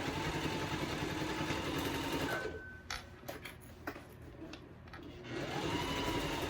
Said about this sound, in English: Push it down so you can sew it.